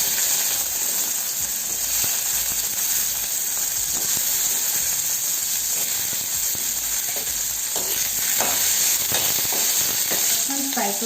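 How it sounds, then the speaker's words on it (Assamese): Okra fries in hot oil seasoned with whole cumin seeds and turmeric, giving a loud, steady sizzle that runs the whole time, with occasional light stirring clicks and no voices. "এতিয়া মই ভেন্দিখিনি প্ৰথমতে অলপমান ফ্ৰাই কৰি লওঁ"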